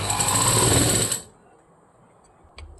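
A sewing machine runs loudly up close, stitching thread piping onto a blouse with a normal presser foot, then stops after about a second, followed by quiet and a brief clack.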